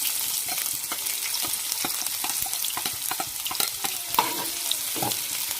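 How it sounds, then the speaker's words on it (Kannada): Chopped onions frying in oil for a capsicum gravy, a steady close sizzle with bursts of crackle and scraping stirring strokes, no voices. "ಸ್ವಲ್ಪ ಈರುಳ್ಳಿ ಫ್ರೈ ಆಗಲಿ."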